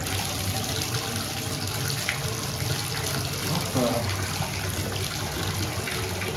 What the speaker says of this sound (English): Now I can't shut the water off.